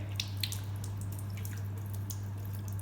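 Water runs and drips while hands and forearms are rinsed at a sink, soft irregular splashes and drops over a steady low hum, close but fairly quiet, with no talking.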